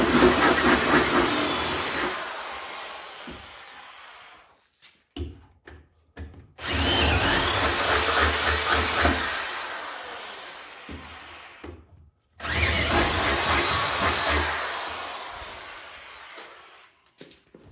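A power drill bores a pilot hole in a Mustang's rear deck for a spoiler, three long loud whining bursts separated by short pauses with small knocks, close and alone.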